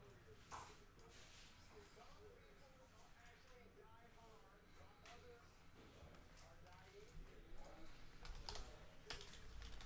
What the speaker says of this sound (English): let me type in what you said earlier on